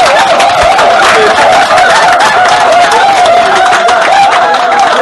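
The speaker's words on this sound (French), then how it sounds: "Applaudissons pour le Seigneur." A church congregation applauds in praise at a deliverance service in Bafoussam, a dense, steady wash of clapping that runs the whole time, with singing or voices carried over it.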